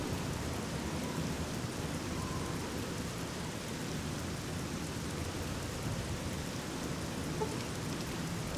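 Steady rain in the video game Fallout 3, a constant wash of falling water and drops pattering on surfaces, with faint low rumbling underneath and no voices.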